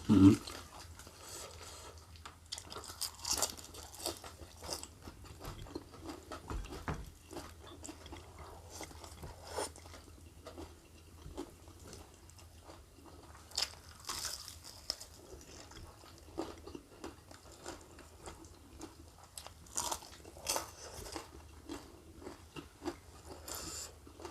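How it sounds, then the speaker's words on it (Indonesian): Crisp bites and chewing of fried raw jengkol during a mukbang meal, close and fairly quiet, with repeated short crunchy bursts spread through the clip and no talk. "Garing banget jengkolnya."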